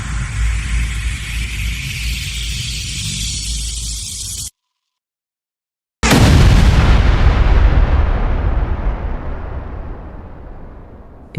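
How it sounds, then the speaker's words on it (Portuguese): Nuclear weapons detonating simultaneously: a long rumbling blast roars, cuts to a second of silence, then a heavier deep boom hits and slowly decays over several seconds, with no voices. "todas as armas detonaram simultaneamente"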